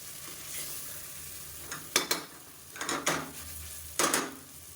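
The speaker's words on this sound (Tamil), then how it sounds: "இப்போ இதையும் சேர்த்து இந்த மசாலாவோட நல்லா வதக்கிக்கலாம்." Capsicum being sautéed with masala in a pan: a soft steady sizzle with several sharp stirring and scraping clatters of a spoon against the pan, close and alone with no talk.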